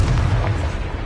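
An explosive Confringo fire spell from Hogwarts Legacy bursts as a loud, dense boom with a heavy low rumble that fills the whole moment, steady and close with no talk.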